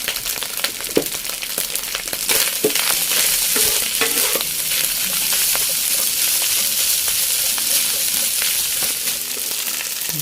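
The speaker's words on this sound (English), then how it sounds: "So we stir fry further." Kampung fried rice with anchovies, shrimp paste, fish sauce and vegetables stir-fried in a pan, a steady close sizzle with scraping and tossing clatter running throughout, no voices.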